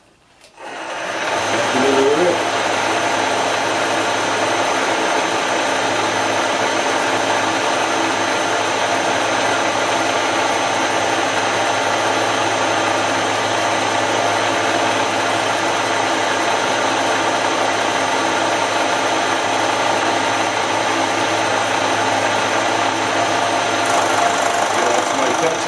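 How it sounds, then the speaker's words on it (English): A milling machine running with automatic feed on the x-axis, a loud steady motor whine and hum that starts abruptly and holds unchanged for the whole stretch. "I do have automatic feed on this machine on my x-axis"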